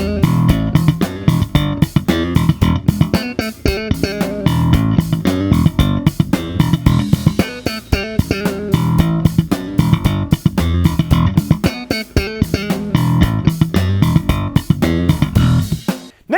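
Slap bass line played over a full practice backing track, with punchy bass notes driving a steady funk groove and dense accompaniment throughout.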